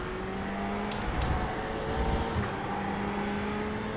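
Race car engines from the iRacing sim in a VRS GT Sprint Series event, a steady droning engine tone held throughout with faint shifts in pitch and a couple of brief higher clicks, no voices.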